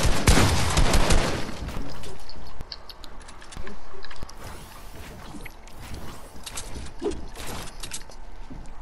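Gunshots in the battle royale game Fortnite, a few loud close cracks up front, then quieter scattered game noises and distant shots.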